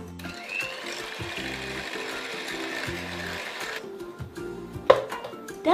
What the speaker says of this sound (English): whisk egg whites with cream of tartar using an electric mixer